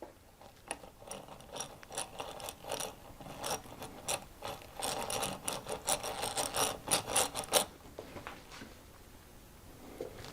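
A hand drill bores slowly into cherry wood, giving a close run of rapid clicking, grinding strokes in uneven bursts that fade out toward the end.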